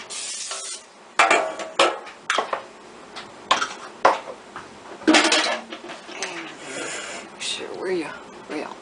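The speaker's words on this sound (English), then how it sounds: "we're going to give our springform pan a little quick spray" A few short hissing bursts of cooking spray onto a springform pan, close up, mixed with light clinks and rustles of kitchen handling.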